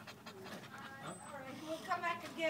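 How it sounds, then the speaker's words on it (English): A dog pants in quick, soft breaths close by, with people talking over it and faint bird chirps in the background. "Who's that puppy, Coco?"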